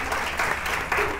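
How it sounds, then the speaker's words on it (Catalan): Studio audience applause on a Catalan TV quiz show, a short steady burst of clapping that swells twice, with no voices on top. "et farem aquest aplaudiment"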